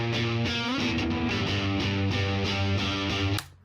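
Two electric guitars layered together for a live show, a double-tracked part stacked with a second live guitar: full, wide chords in a steady rhythmic pattern with slight distortion, ending suddenly.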